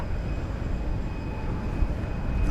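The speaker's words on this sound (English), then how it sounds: "All right, Eva Air off to Taipei." Eva Air jet departing DFW for Taipei at night, a steady broadband engine roar held at even strength throughout with no voices.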